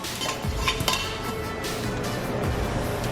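Cookie dough for vegan chocolate chip cookies being scooped with a small cookie scoop, with light metallic clinks and scraping against a bowl and tray, steady and close, with no talking.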